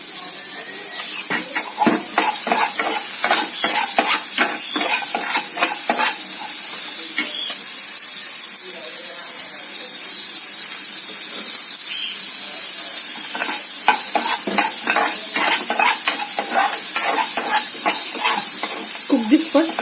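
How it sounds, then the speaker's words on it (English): Onion frying in olive oil in a pan, a loud continuous sizzle and hiss with bursts of scraping stirring strokes, close up. "Now in the same pan, add onion and some olive oil."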